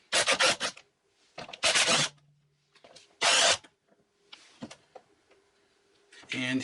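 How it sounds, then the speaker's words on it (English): 14mm engine mount bolts come off a 2003 Honda Civic in several loud, separate bursts of rapid tool clicking, broken by short quiet gaps. "They're all 14mm bolts, so I'll just go ahead and unbolt them."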